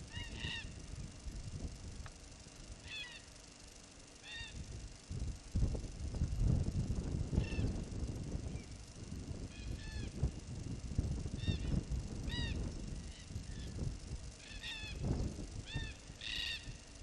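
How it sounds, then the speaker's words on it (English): Corellas or cockatoos gather at a water trough on an outback station, giving repeated harsh, honking calls in loose bursts throughout, moderately close, over a steady background hum. "This is another shot of the Bowden's cockies. They're coming in for water from this trough."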